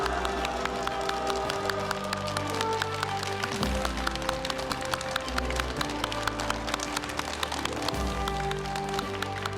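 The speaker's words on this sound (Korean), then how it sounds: "먼저 오늘의 주인공인 임택 동구청장을 여러분의 박수로 모시도록 하겠습니다" Steady applause from a seated town-hall audience in Gwangju's Dong-gu district, welcoming the district mayor, continuous and dense clapping throughout with a low hum of crowd noise underneath.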